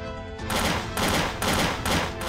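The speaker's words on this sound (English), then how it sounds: "Who's shooting me?" Rapid gunfire in Trouble in Terrorist Town, a loud burst of automatic shots in several quick bursts with short gaps between them, heard close and alone.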